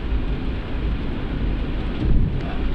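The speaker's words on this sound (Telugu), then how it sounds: "ఈ మధ్యలో వాన వచ్చింది." Steady heavy rain pours during a storm in Kuwait, with a low thunder rumble underneath and a brief swell in loudness near the end; no voices.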